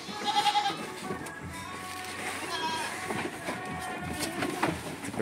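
Goats in a pen at feeding time, bleating and calling at moderate distance over a busy background of shuffling and clatter, with a person talking over it.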